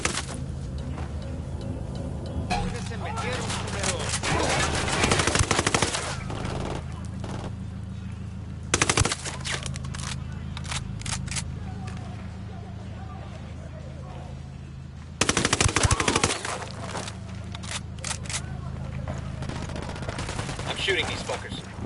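Gunfire in the shooter game Wildlands comes in sharp, loud bursts of rapid shots separated by pauses, over a constant low in-game background hum, with voices talking throughout.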